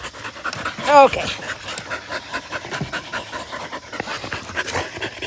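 Dog panting rapidly and steadily at close range, a quick rhythmic huffing that runs throughout, with a short whine early on and a person talking over it.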